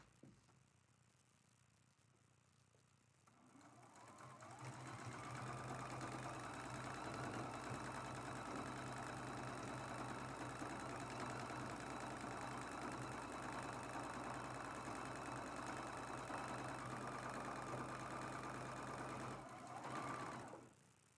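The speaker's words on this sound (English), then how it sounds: "this is how fast I would sew this seam if I'm working with a glue basted seam" A sewing machine runs fast and steadily along a glue-basted T-shirt quilt seam, starting after a few quiet seconds and then holding one long, close, continuous whir before stopping near the end.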